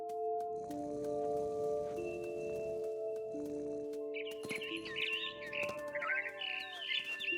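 Chirps and trills of a bird in the video game What Remains of Edith Finch, rising in the second half over a steady droning musical score, close and fairly clear with no speech.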